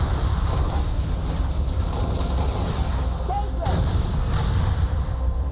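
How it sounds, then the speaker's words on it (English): A grenade launcher in the Halo Reach video game fires and explodes amid a dense, loud battle din of rumbling blasts and gunfire that continues without pause. "This is a grenade launcher, which is pretty sick."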